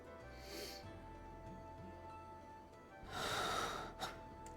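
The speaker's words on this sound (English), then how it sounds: "Why is his breathing so damn fucking loud?" Loud, heavy breathing from a character in the video game Trails of Cold Steel, with audible gasps and snorts over a quiet background and a louder burst of breath near the end.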